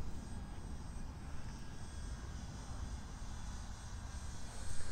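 The engine of an RC Arrows Bigfoot model airplane runs at half throttle, a steady, fairly distant drone with a constant buzzing hum that does not let up.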